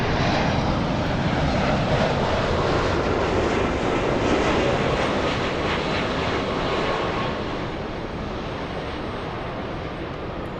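A Boeing 767 airliner at LAX roars loudly and steadily at close range, a dense broadband jet rumble that eases only slightly toward the end.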